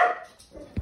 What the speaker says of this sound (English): He'll stop barking.